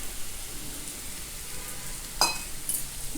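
A pot of Tamil buttermilk curry (mor kuzhambu) with elephant yam comes to a boil, giving a steady soft bubbling hiss with one brief sharper pop near the end and no talking.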